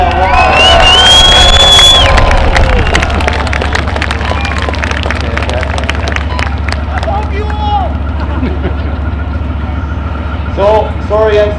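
A crowd at a Tank Saturday battle event cheers, claps, shouts and hoots together, loud and continuous throughout, with a speaker's amplified voice over the noise.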